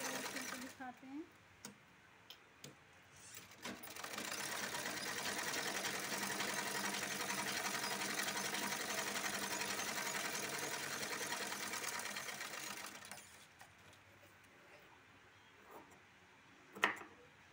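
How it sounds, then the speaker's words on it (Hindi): Sewing machine stitching a lining onto a blouse, a steady close whirring run of about nine seconds, preceded and followed by quieter clicks and handling noises, with a person speaking around it. "आप लोगों को सिलकर दिखाते हैं।"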